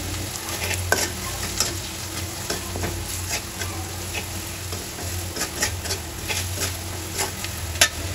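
Onion, garlic, turmeric, chili, coriander and cumin powders sauté in oil in a pan, giving a steady sizzle broken by frequent scraping and clicking strokes of the stirring spoon.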